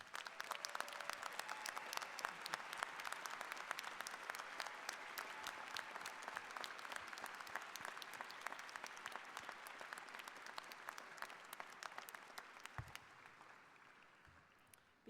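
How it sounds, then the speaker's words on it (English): A commencement crowd applauds the graduating dentistry class at a university ceremony, a long, even wash of clapping from many hands in a large hall that slowly thins out at the end. "join in a round of applause to congratulate the class of 2026"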